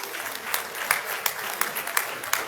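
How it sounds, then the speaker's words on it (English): Applause for newly promoted senior officers at a military decoration ceremony, steady clapping from a seated crowd with a few sharper claps standing out, continuous and moderately loud. "Please let's appreciate them with a round of applause."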